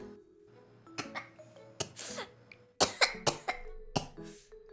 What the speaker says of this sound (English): Don't cough.